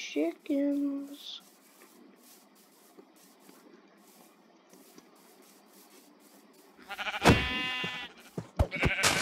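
Sheep bleating in the video game Minecraft: a short bleat at the start, then a quiet stretch, then louder bleats near the end, close and clear.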